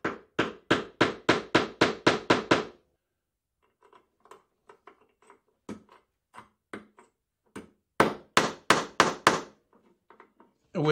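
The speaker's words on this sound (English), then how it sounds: "I'm going to take this older chisel here and chip out the rest so that it will go all the way in." Wood is chipped out with an old chisel, first in a quick run of about a dozen sharp, close taps. Scattered quieter knocks follow, then another rapid burst of strikes, with no talking.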